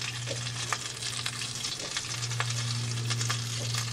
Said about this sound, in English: you'll probably hear them kind of start to sizzle